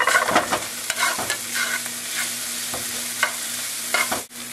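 Onions, bell pepper and poblano pepper sizzle steadily in a pan for chili, with repeated scraping strokes of a stirring utensil and no talk.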